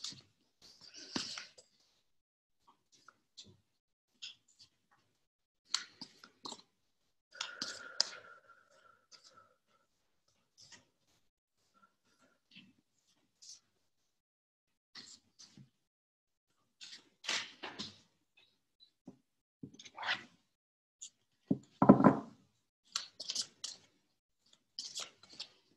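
Tarot cards are shuffled by hand in short, intermittent bursts of soft riffling and clicking, spaced by quiet gaps over a long stretch, close and fairly faint with no talk.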